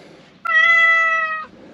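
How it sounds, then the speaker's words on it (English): A cat on a homestead farm gives one clear, drawn-out meow, loud and close, rising and then falling over about a second against a quiet outdoor background. "There's our cat."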